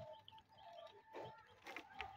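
Bombay pigeon cooing softly and briefly a few times, faint and low, with light ambient noise around it.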